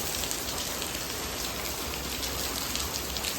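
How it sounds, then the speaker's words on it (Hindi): Steady, dense rainfall pouring down continuously, a loud even hiss of drops hitting surfaces with no voices. "सुबह 4:30 बजे से बारिश हो रही है और अभी तक नहीं रुकी है"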